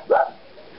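A dog gives a single short, sharp bark indoors at close range. The sound is brief and mid-pitched, and a faint room hum trails after it.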